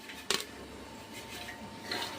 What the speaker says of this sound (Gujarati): હવે થોડીક આને હલાવી નાખશું